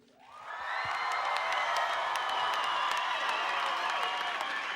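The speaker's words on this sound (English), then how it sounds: "we want you to clap and cheer as loud as possible" A live audience at a Step Afrika dance show breaks into applause and cheering, the sound swelling quickly to a loud, sustained wall of clapping with scattered whoops.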